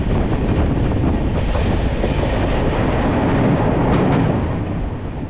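Aboard the Kanchankanya Express creeping slowly through the Mahananda reserve forest, a broad, steady rolling rumble fills the carriage with faint wheel clatter and some wind buffeting, continuous and loud, with no talking.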